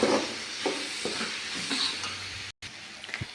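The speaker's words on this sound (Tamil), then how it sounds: "சரிப்பா, காய் வதக்கிறத பார்த்துக்கலாம்" Vegetables sautéing in a home cooking pan give a steady low sizzle and hiss, broken by soft stirring scrapes and a brief dropout near the end.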